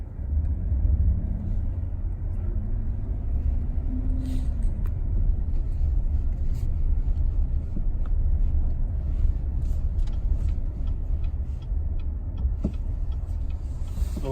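A 2019 Chevrolet Silverado pickup truck driving on the road, heard from inside as a steady low engine and road rumble. Faint rattles and ticks sit over the hum throughout.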